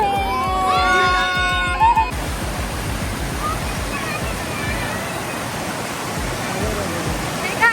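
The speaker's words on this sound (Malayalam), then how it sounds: "ചെറിയൊരു വെള്ളച്ചാട്ടത്തിന്റെ അതേ ഫീലില്ലേ" A steady, full roar of rushing water at the Athirappilly waterfall fills the scene after a couple of seconds of voices. It continues unbroken and fairly loud to the end.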